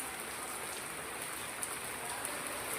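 Steady rain falls in Singapore, a dense even hiss of drops hitting surfaces with a few sharper patters standing out, continuous and unbroken throughout.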